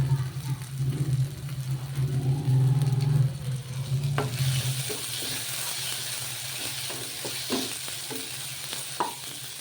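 Masala with turmeric frying in oil for a goat tripe (boti) curry, a steady close sizzle with a low hum and intermittent stirring scrapes and clinks of a utensil against the pan, no talking.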